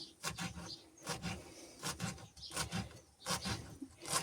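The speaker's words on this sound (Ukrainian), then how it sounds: "Беремо, нарізаємо тепер нашу зелень." A knife chops fresh herbs on a cutting board. The blade strikes in quick, steady strokes, close and fairly quiet, with no talking.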